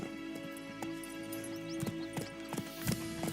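A horse's hooves clip-clop at a steady trotting rhythm in the game Witcher 3, close and clear over a sustained musical drone, the beats growing a little louder toward the end.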